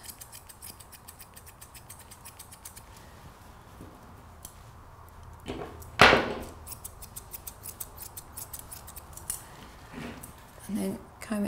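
Scissors snip through a Labradoodle's coat during grooming, giving a run of quick, light metallic clicks with one sharper, louder cut partway through, over a quiet room.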